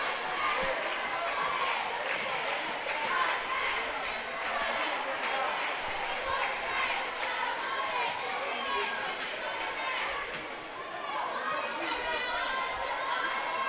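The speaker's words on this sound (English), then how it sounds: "Pretty good crowd here tonight." Crowd noise at a high school basketball game: a steady, dense murmur of chatter and shouts from a modest audience filling the gym, with people talking nearby over it throughout.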